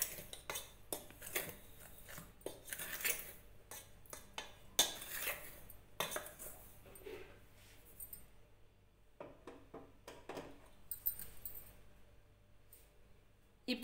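A spoon scrapes and clinks against a bowl while wheat flour batter with salt is stirred, quiet irregular taps and swishes coming in uneven bursts close by.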